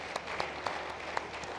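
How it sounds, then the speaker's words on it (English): Audience at an African capital markets conference applauds its panelists, a steady wash of clapping with a few sharper claps standing out, moderately loud and continuous throughout. "I'd like us to give our panelists a round of applause."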